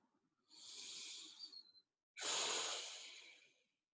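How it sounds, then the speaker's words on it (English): A person takes a long, deep inhale through the nose during a guided breathing exercise, then follows with a stronger, breathy exhale. Both are close and quiet, and no one speaks. "Take a breath."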